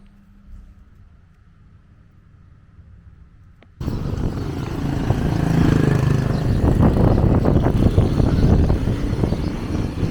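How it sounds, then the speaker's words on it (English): Wind gusting by Lak Lake in Dak Lak, Vietnam's Central Highlands, a steady loud broadband rush that starts abruptly after a few seconds of quiet and keeps blowing across the microphone. "It's getting a bit windy."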